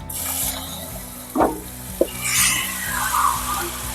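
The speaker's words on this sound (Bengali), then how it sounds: "এবারে আমি ম্যারিনেট করা চিকেনটা দিয়ে দেবো" Marinated chicken hits a hot pan with no oil and sizzles into a steady hiss, broken by a couple of sharp utensil clinks and stirring scrapes.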